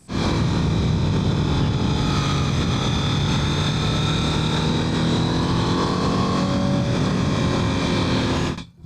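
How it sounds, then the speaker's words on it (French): A Honda Fireblade motorcycle engine runs steadily in mode 1, a loud, continuous hum with a slowly rising pitch under wind rush, sustained for about nine seconds before cutting off abruptly. "tu as même remarqué que le bruit du moteur a changé"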